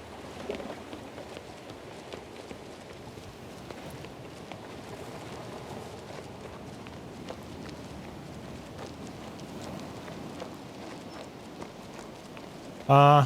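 Horse hooves clip-clop steadily in King's Bounty II, a soft running gait under game ambience and faint talk, ending in a brief louder burst.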